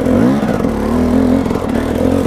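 A hot motorcycle engine revs close by out in a forest, its pitch rising and falling in a loud, sustained drone with rattly clatter, and no voices over it.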